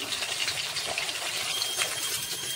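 Pabda fish fry crisp in a pan, giving a continuous close hiss of sizzling oil that stays even throughout.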